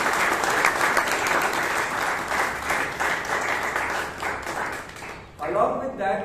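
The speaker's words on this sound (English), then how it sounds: "let's give a big round of applause." Audience applause at a Bangalore Toastmasters club meeting, a loud, close burst of many people clapping for about five seconds, then breaking off as a voice begins talking.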